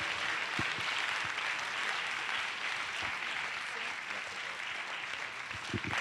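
Steady, even applause from an audience at a Piccolo Rifugio Vittorio Veneto foundation event, a continuous wash of clapping heard at a moderate distance without talk.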